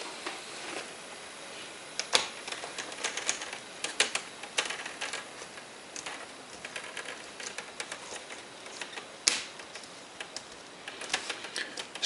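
Plastic screen trim on an HP Envy M6 laptop being squeezed and snapped into place, giving a steady run of small, close clicks and sharp snaps with a few louder pops, no voices.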